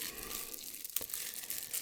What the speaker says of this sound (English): Another trigger for tonight is the IKEA candle